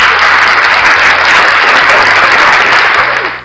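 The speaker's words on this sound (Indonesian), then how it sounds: "Tepuk tangan dulu." A studio audience at an Indonesian talk show breaks into loud, continuous applause. The dense clapping holds steady for about three seconds and then fades at the end.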